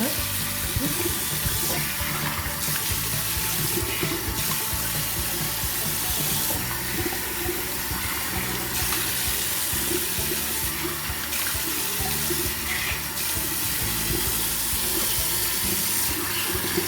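Running tap water pours steadily into a sink while a face is washed, a continuous loud splashing rush with small shifts as hands move through the stream.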